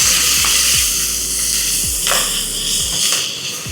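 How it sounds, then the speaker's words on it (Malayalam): Ginger paste sizzles and fries steadily in a hot pan while being stirred, a continuous close hiss broken by a few soft scraping strokes of the spoon, with no talking. "ജിഞ്ചർ പേസ്റ്റ് ഇട്ടിട്ട് ഒന്ന് മിക്സ്."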